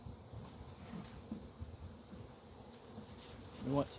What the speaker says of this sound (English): There are still some bees in here